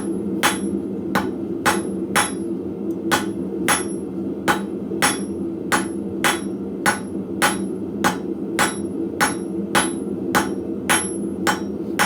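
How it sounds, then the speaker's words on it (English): A hammer forges a four-sided taper on a hot metal leather scribe, sharp ringing anvil strikes landing in a steady rhythm about once per second, close and loud over a low background hum. "Okay, so now for the pointy side, we're going to do a taper on all 4 sides."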